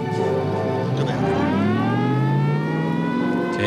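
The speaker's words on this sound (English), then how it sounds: "Take our word for it. A police car." A police car siren wails loud and steady, its tone sweeping and bending upward and back down, with no talking over it.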